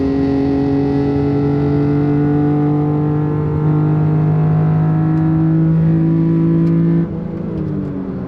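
A 30-year-old Japanese import car engine with individual throttle bodies, idling and held at steady revs with a strong buzzing hum, loud and close, dropping back slightly near the end.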